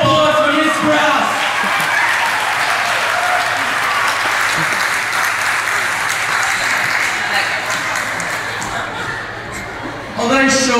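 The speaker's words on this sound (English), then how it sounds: "a round of applause for Miss Kratz" A live comedy show audience breaks into sustained applause, loud and steady for about ten seconds with a few chuckles mixed in, tapering slightly before a voice returns at the end.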